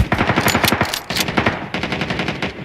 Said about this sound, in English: Snipe the driver out.